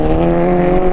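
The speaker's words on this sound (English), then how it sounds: "Rev it up, rev it up." A car engine revs hard in one loud, sustained burst, its harmonic drone steady and close for a brief moment.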